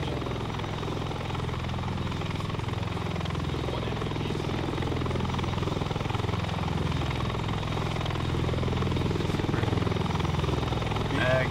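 Steady, loud helicopter rotor drone in the military shooter Operation Sierra Dusk, holding constant throughout with low rhythmic thumping, while a voice occasionally talks faintly underneath.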